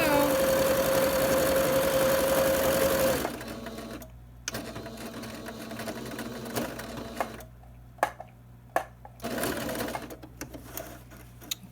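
A sewing machine stitches a fabric face mask, running at a loud, steady whir for about three seconds before stopping, followed by quieter handling noises and faint clicks.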